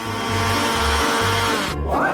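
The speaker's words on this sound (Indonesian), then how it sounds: "Aku akan melakukannya dengan cepat menggunakan mixer tangan ini." An electric hand mixer whirs steadily through a batter of grated cucumber and egg, a continuous motor hum with a pulsing low rhythm that cuts off near the end, with no talking.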